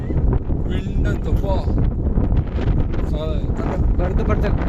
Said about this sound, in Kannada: ವಿಂಡ್ ಇಷ್ಟು ಗಾಳಿ ಇದೆ